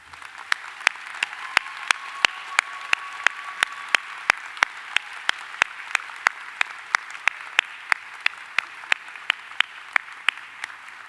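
At a medical school graduation ceremony, one close clapper beats out steady, evenly spaced claps over a faint background of the wider audience.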